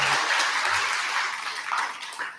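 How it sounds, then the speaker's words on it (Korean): A wash of applause from worshippers at a Buddhist temple service during a Saengjeon Yesujae ceremony, steady and dense, with faint voices mixed in. "박수를 크게 한번 치세요"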